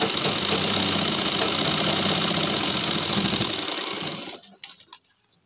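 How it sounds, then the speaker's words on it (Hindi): A sewing machine runs an edge stitch along a trouser waistband, giving a loud, rapid, steady mechanical whir up close for about four seconds before stopping. A few soft handling knocks follow. "पलटने के बाद इस पे भी किनार की सिलाई लगा देंगे"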